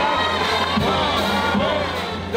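Huge stadium crowd of over 88,000 roaring and cheering at an Auburn football game after a win over UMass, a loud, sustained dense roar with shouts rising above it.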